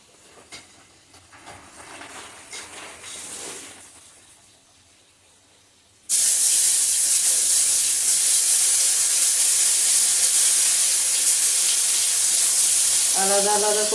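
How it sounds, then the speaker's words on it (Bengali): Pieces of eggplant drop into hot oil in a wok and burst into a loud, steady, close sizzle that runs unbroken for several seconds after a quieter stretch of kitchen noise. "যে কড়াই তেল গরম হয়ে গেছে, এখন দিয়ে দিচ্ছি বেগুনগুলি"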